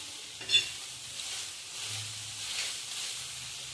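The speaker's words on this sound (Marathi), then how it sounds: "चवळीच्या दाण्याची दुपारचं जेवणासाठी चवळीचे दाणे आता पहिले भाजून घेते मी चवळीचे दाणे" Cowpea beans dry-roasting in a pan, a soft continuous sizzling hiss with a sharp clink of a utensil near the start and light stirring, close and fairly quiet.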